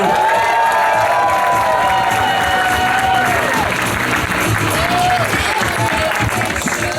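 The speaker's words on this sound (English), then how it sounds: "Let's hear it for the very funny Lin Sun." A crowd claps and cheers loudly and continuously, with whoops and whistles rising above the steady applause.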